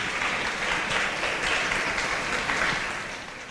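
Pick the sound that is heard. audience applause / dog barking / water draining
audience applause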